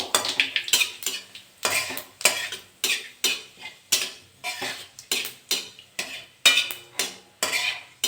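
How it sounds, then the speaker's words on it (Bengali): Dry red chilies, whole cumin and a bay leaf fry in hot oil, stirred with a utensil that scrapes the pan in a steady, rapid rhythm over a light sizzle, close and with nobody speaking. "আমি শুকনো লঙ্কা আর জিরে দিয়ে দেবো, গোটা জিরে, একটা তেজপাতা দিয়ে দেবো চিড়ে, একটু ভেজে নেবো।"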